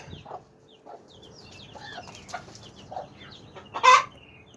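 A hen clucks softly in scattered bursts, with one louder squawk near the end, against quiet farmyard background.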